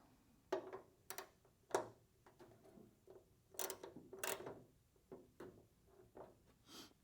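Ratchet snugging a bolt with a 12 mm socket on a 5th-gen Toyota 4Runner while fitting an off-road light, with close, quiet irregular clicking bursts in quiet surroundings.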